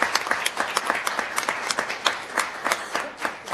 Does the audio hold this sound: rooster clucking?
no